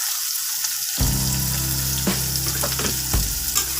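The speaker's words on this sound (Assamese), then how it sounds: "পিঁয়াজখিনি মই অলপ সময় ভাজি ল'ম।" Finely chopped onion hits hot oil after a brief quiet moment, and a loud, steady sizzle follows, with a few soft clatters of stirring.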